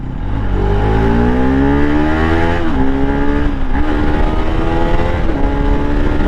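A Bajaj Pulsar RS200 motorcycle engine revs hard and climbs steadily toward its redline, loud and close, with brief dips in pitch as it rises again.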